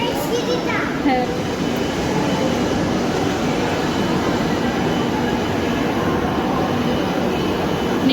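A Kolkata metro train runs past near New Garia station with a steady loud rumble and rail hiss, faint squeals early on, and scattered voices including children in the background.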